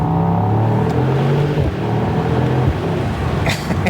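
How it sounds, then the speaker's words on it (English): A Mercedes-AMG GT's engine revs loudly up close, a deep, throaty roar with shifting pitch as it climbs and falls, with no talking. "listen to this thing, okay? Here, I hope you can hear this and it doesn't blow out the microphone."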